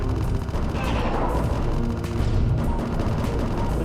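In the Metroid 2 remake AM2R, soldiers' machine guns rattle continuously with occasional heavier thuds, a loud, steady wall of gunfire heard alone.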